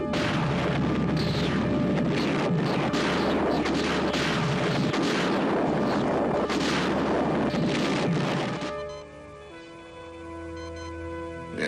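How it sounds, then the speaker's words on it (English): Sci-fi laser torpedoes fire in a loud, dense volley of repeated booming blasts for about nine seconds, then give way to a steadier electronic humming tone. "Laser torpedoes are about to fire."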